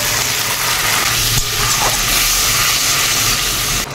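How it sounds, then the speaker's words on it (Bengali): Spice paste of ground spices, turmeric and chili powder sizzles and hisses steadily in hot oil in a pan after a splash of water, a dense continuous frying crackle with no talking. "অল্প করে জল দেবো, দিয়ে কষে নেব।"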